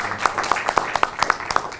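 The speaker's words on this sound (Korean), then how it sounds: "큰 박수 부탁드리겠습니다." Applause at a Korean panel forum on denuclearization and the peace process on the Korean Peninsula, as a national security institute director is introduced; a brief burst of scattered hand claps with sharp, uneven peaks.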